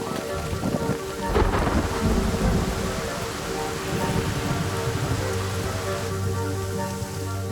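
Heavy monsoon downpour drums steadily on forest canopy leaves, with a loud thunder crash about a second in and rumbling continuing beneath the dense, constant roar of rain.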